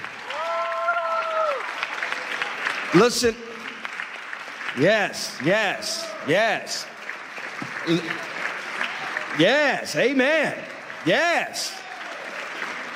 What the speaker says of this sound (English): can we give all of our wonderful speakers a big hand clap?